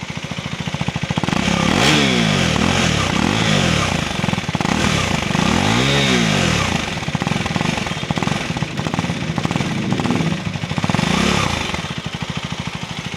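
A Husqvarna Svartpilen 401 single-cylinder motorcycle thumps loudly at idle, then revs several times in rising and falling blips before settling back to a steady, rapid exhaust beat.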